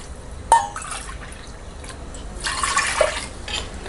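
Water poured from a cup onto soaked rice for black urad dal rice, giving a short splash and then a longer trickling pour, close and fairly soft.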